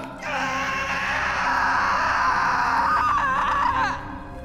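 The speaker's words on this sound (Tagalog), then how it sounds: "ang kasunod ay isang malakas na sigaw" A princess lets out a loud, drawn-out scream lasting about four seconds, wavering in pitch toward the end before cutting off.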